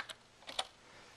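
Keys tapped on a computer keyboard, a few quick quiet clicks in a short burst, close up and with no speech.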